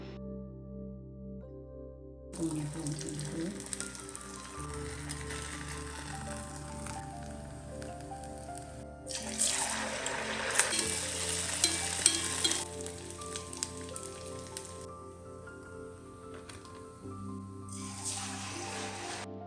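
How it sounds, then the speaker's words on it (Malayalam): Ney pathiri, a puffy Kerala fried bread, sizzling in boiling oil for a Ramadan iftar, with a steady hiss and louder bursts of crackling as pieces go in, alongside background music. "എന്നിട്ട് നമുക്ക് തിളച്ച എണ്ണയിലിട്ടിട്ട് ഫ്രൈ ചെയ്തെടുക്കാം."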